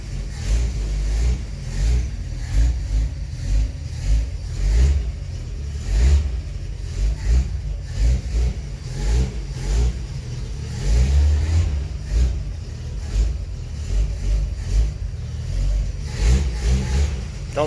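A Belvedere car engine runs loud and close, rising and falling in repeated revs over a rough, rumbling idle that never lets up.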